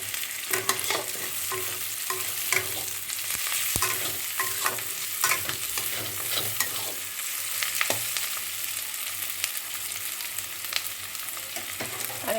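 Onions frying in a pan crackle under an even sizzle, while a spatula scrapes and taps the pan in irregular knocks throughout.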